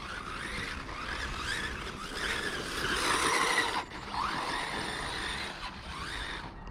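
Small FTX Banzai RC car racing around an outdoor test track, its electric motor whining and rising and falling steadily over a broadband rush, with a brief louder surge partway through and no talk.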